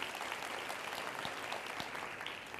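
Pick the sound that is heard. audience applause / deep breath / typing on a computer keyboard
audience applause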